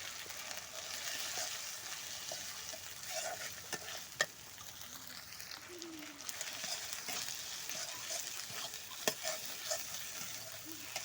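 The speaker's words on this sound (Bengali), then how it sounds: "ডিমটা ভাজা ভাজা হয়ে গেছে" Fish roe frying in spice masala in a pan, with a continuous low sizzle and light stirring scrapes. A few sharp clicks and a faint bird call sound in the background.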